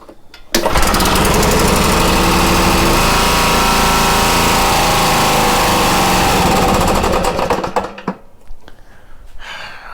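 A Kawasaki FJ180 small engine with a loose, knocking crankshaft starts up abruptly and runs rough and loud, with a harsh rattling clatter for about seven seconds before cutting out into a few scattered knocks.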